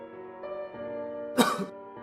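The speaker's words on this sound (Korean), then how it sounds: "남자가 인기척을 내려고 헛기침을 했을 때였다." A man gives a single short, gruff throat-clear, close by, over a low sustained musical background.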